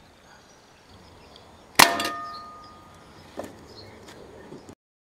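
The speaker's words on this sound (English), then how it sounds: "I'm intending to fire 10 of these gammo lead balls." A Diana Model 1 air rifle fires a Gamo lead ball at a target, one sharp metallic clang with a ringing decay, followed by two fainter knocks about a second apart, then silence.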